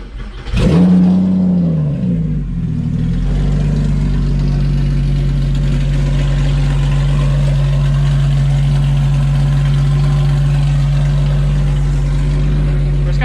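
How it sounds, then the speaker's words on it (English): A Porsche 996 engine starts with a sharp rev, then settles into a loud, steady, deep idle through a throaty race exhaust, close by with no talking. "it's got a race exhaust on it still"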